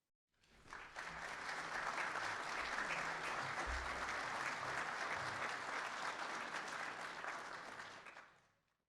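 Loud, sustained applause from a large audience at a police academy class graduation ceremony, building quickly, holding steady for several seconds and then tapering off, with no speech over it.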